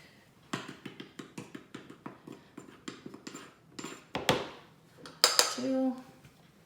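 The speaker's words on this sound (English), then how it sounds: "measure out 3 cups of flour and put it right into the nice warm liquid" Cups of flour are measured out and tipped into a bowl of warm liquid for easy homemade bread, with a quick run of light, rhythmic clinks followed by louder scraping and pouring bursts.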